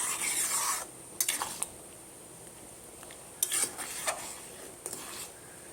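A spoon stirs daliya in a cooking pot, giving scraping, sizzling bursts in short, uneven bouts with quieter gaps between them, close and fairly loud, with no one talking.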